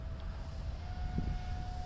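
A 3D printed 50mm J10 model jet flies and climbs, giving a steady, fairly faint whine with a thin sustained tone over a low rumble of wind, heard from a distance for a couple of seconds.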